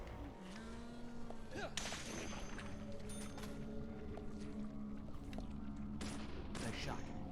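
Gunshots fired in the horror video game Deadly Premonition, several sharp cracks spaced irregularly over a droning game soundtrack with tonal music and ambience, fairly quiet overall.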